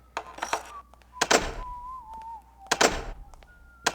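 Several sharp, hollow thunks ring out at intervals over a faint sustained electronic tone that bends in pitch: a ring locking sound effect in the video game Thief.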